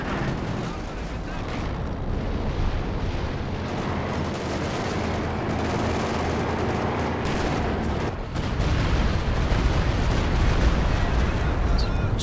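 Rumbling artillery barrage explosions from the World War II strategy game Company of Heroes 2, a continuous loud roar of blasts and gunfire in a winter 3v3 battle with howitzers, building heavier toward the end.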